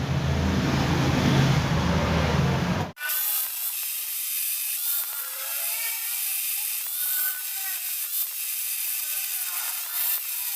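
Protruding screws on motorcycle mag wheels being cut off during a Rusi DL 150 to Flash 150i conversion, a steady high-pitched grinding whine that starts abruptly after a brief burst of broadband noise and runs on continuously, loud and close.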